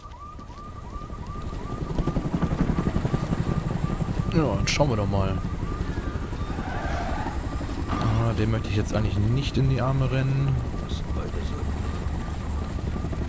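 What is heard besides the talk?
surveillance drone hovering in video game Homefront: The Revolution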